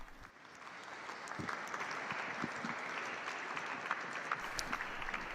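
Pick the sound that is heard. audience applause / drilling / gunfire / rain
audience applause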